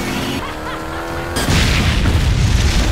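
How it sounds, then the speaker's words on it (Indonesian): A sudden loud boom as a car explodes during a race bursts in after a stretch of engine and music-like tones, followed by a dense, roaring rumble that carries to the end. "membuat mobil lawannya itu meledak"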